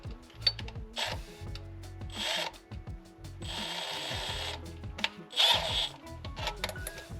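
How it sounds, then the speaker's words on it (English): A power drill used to clean an engine valve whirs in several short bursts, each spinning up and winding down, with clinking and handling noises between them, nearby. "take a drill"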